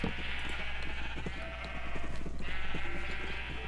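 Minecraft sheep bleat faintly over a steady background hum and soft tapping noises, the calls wavering and somewhat distant.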